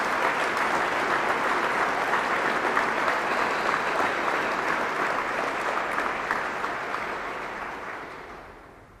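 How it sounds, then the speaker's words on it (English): An audience at a remembrance ceremony applauds steadily, with dense, even clapping that holds for several seconds and then fades out gradually toward the end. "Let's give them a big round of applause for their great work."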